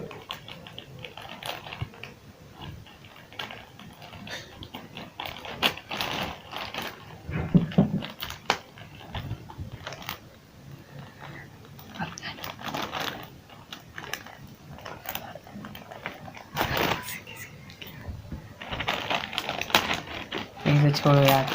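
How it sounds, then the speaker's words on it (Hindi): Scissors snip and tear through a cardboard box package, giving irregular crunchy cutting and rustling at close range across the stretch, with a person talking over it at times. "इसके लिए कैंची यूज कर रहे हैं।"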